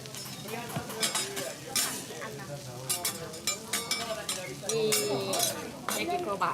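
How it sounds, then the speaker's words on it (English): Okonomiyaki sizzling on a hot griddle at an Osaka restaurant, a soft steady frying hiss with scattered clinks of metal utensils and pans, under quiet talk nearby. "So that's just slowly bubbling and sizzling away on the hot griddle right in front of you."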